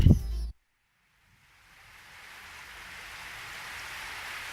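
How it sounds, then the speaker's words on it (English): Rain in the video game Edelweiss begins as a faint hiss after a brief burst of other game sound and a moment of silence, then builds into a steady, even downpour that grows louder. "we heard and it started raining. It was an evening shower. Then the rain picked up force in no time."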